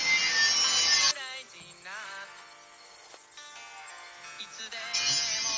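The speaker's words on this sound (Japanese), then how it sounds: "サンダーで磨きます。" A sander grinds curb rash off an aluminum wheel, producing a harsh, loud abrasive roar that drops to a quieter scraping hum in the middle before the grinding surges back at the end.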